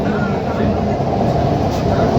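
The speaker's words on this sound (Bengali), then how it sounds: "হাওড়া ময়দান থেকে ট্রেন ছেড়ে দিল, স্প্ল্যানেড দিকে যাচ্ছে।" A Kolkata underwater metro train pulls out of Howrah Maidan station, heard from inside as a loud, steady low rumble and roar of the carriage, with a voice talking over it.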